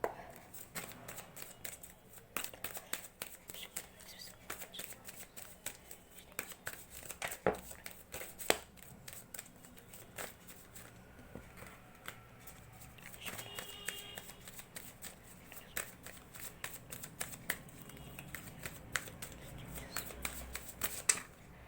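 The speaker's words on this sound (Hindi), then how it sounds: "जब तक मैं शफल कर रही हूँ आप प्लीज़ पॉजिटिव रहिए" Tarot cards shuffled by hand in a steady stream of soft riffling and flicking, close and moderately quiet, continuing for about twenty seconds without talk.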